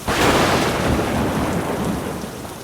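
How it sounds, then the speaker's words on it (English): A thunder sound effect plays as a loud, close rumble with a sharp onset, spreading into a broad roar that slowly fades over a couple of seconds. "Add thunder sound effects,"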